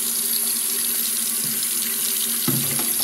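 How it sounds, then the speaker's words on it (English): A faucet runs steadily into a sink for a few seconds while hands are washed, a close, constant hiss of flowing water with a brief splash change partway through and no talking. "You gotta wash your hands."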